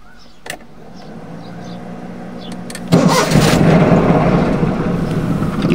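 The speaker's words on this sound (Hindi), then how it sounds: "ले भाई हमारी मेहरान स्टार्ट हो गई है" A Suzuki Mehran car's engine cranks and catches around the three-second mark, then settles into a steady, loud idle close by, after a few faint interior clicks and a quiet hum.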